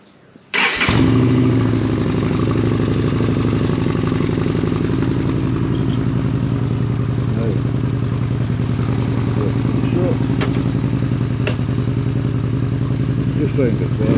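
A car engine cranks and catches after a key turn, then settles into a steady, even idle that carries on close and loud throughout, with a few faint clicks over it.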